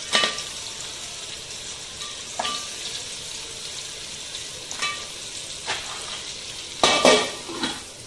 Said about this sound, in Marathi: फोडणीवरतीच आपण मुठे रचत घेतलेत बघा.